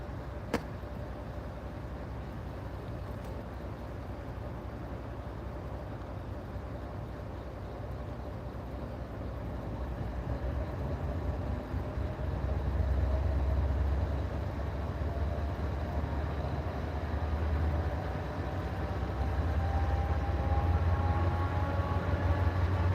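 Norfolk Southern locomotive NS8104 rolls past trackside, a sustained rumble and rail noise that swells midway and stays loud, with a steady high whine over it and no talk.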